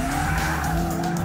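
An FPV GT car skids under hard braking on a race track, its tyres howling in a loud sustained screech over the engine.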